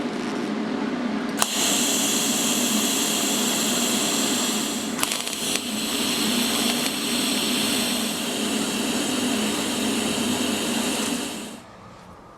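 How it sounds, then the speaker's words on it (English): Welding across a big crack in a Ford Econoline van's front door body: a continuous loud, close crackling hiss lasting several seconds, broken by brief pops and short gaps before cutting off. "I was able to get a weld all the way across that big crack."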